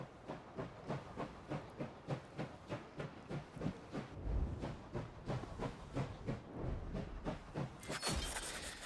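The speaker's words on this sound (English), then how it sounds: "Now we start the train." An armored train starting up in the Last Train Home video game chugs in a steady rhythmic series of steam-like puffs that gradually quicken, ending in a burst of bright hissing.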